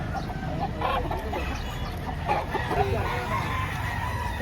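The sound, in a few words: chickens and roosters at a poultry market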